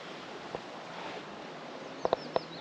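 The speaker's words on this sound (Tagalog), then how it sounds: "Naririnig mo yung mga huni ng ibon." Quiet outdoor ambience on a bike route between Tampere and Nokia, Finland, with a few brief, sharp bird chirps clustered near the end, faint and a little distant.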